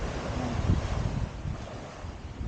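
Sea waves wash against a beachfront with steady wind buffeting the microphone, a continuous broadband rush that swells and ebbs without distinct breaks.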